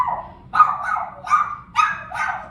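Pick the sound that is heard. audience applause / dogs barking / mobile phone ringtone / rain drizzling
dogs barking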